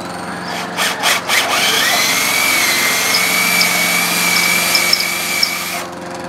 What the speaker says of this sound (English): So let's go ahead and drill the hat.